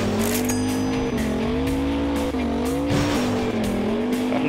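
A racing car's engine in the mobile game Stunt Car Extreme whines loudly and continuously, rising and falling in pitch, while tires squeal and skid over it.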